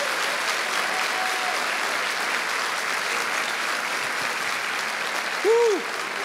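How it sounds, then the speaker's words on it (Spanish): A church congregation applauds during a Spanish-language worship service, giving a steady wash of clapping at moderate level that carries on evenly throughout, with a brief tonal sound near the end. "ese aplauso para el Señor,"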